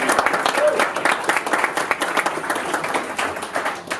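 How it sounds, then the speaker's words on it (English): An audience at an evening VC pitch event claps in a sustained, dense round of applause for the event's sponsors, with voices heard over it. "So please give them a round of applause for"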